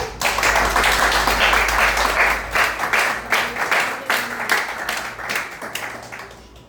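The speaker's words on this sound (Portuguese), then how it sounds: "Você pode aplaudir o Senhor?" A church congregation claps and applauds steadily for several seconds, a dense rolling patter that gradually thins out toward the end.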